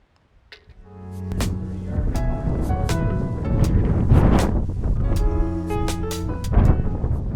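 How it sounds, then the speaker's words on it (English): Strong gusts on a high desert golf course roar against the microphone in a loud, rumbling wash, with tonal whistling hums rising and falling over it. "We got the wind straight in our face."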